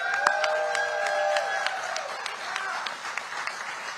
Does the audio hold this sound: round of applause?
yes